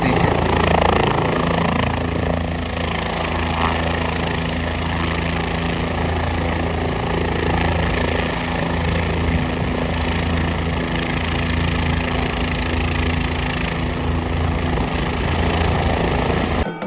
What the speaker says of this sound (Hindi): कुछ इस तरह से हेलीकॉप्टर्स उतरते हैं